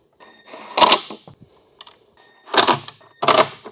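Three bursts of ratcheting clicks from a hand tool bolting a new LED turn signal into a Hummer H3, close and loud, with brief metallic taps between them and no talking.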